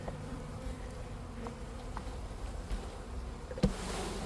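Honeybees being dumped into a hive, a dense, continuous buzzing swarm close by, with a soft knock near the end.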